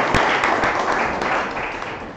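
Steady, moderately loud applause from a listening audience at a Myrtle Beach public event, a brief continuous burst of clapping with no voices.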